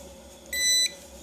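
A touchless voltage tester gives a single short electronic beep, a clear steady tone lasting about a third of a second, close by over a faint background hum.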